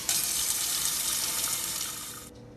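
Tap water runs hard and steady into a pot for boiling pasta for a vegan cashew Alfredo, a loud continuous splashing rush that cuts off abruptly near the end.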